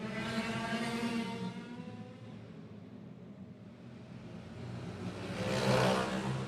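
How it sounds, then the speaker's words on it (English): A race car engine revs on a track during a live racing event, a fairly faint, distant roaring whine that swells, dips and then surges again near the end, with no voices over it. "He's revving her for all she's worth."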